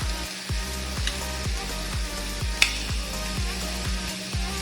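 Shrimp frying in a pan seasoned with onion powder, garlic powder and pepper gives a steady, close sizzle that runs unbroken throughout, with a low rhythmic thumping underneath.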